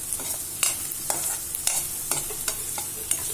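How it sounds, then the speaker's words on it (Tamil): Okra rice, vendakkai sadam, being stirred in a pan: repeated scraping strokes in a steady rhythm over a low background sizzle of frying, close and moderately loud, with no talking. "நல்லா கிண்டி கிண்டிக்கிட்டு இருக்கட்டும்"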